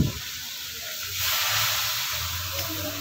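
Tilapia frying in oil at a market stall gives a steady, broad sizzling hiss that swells in the middle, heard alone amid faint low background rumble.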